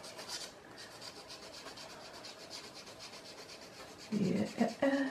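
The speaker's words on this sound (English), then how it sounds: "You can see I'm just kind of scraping it away." A pencil scrapes across wet watercolor paper in a steady, soft rubbing texture, followed near the end by a few louder, closer scratching strokes.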